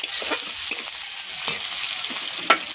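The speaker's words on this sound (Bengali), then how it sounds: "পেঁয়াজ জিরে আর শুকনো লঙ্কা আর পেঁয়াজ একসঙ্গে একটু ভেজে নেবো" Steady sizzling of onion, cumin and dried chili frying in hot oil, with occasional sharp scraping clicks of a spatula stirring the pan, close up and without talk.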